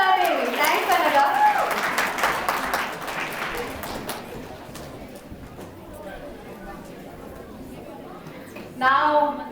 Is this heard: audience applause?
yes